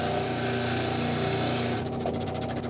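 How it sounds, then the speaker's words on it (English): A rock saw cutting through stone slabs, a steady, loud mechanical whine with a sustained tone that shifts into a pulsing grind near the end, close by with no talking. "We have multiple rock saws all the way up to a great big 24-inch saw"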